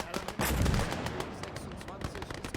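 Aircraft strafing run in a WW2 real-time strategy game, a rattling burst of gunfire with booming impacts, loud and dense, followed by scattered shots and rumble.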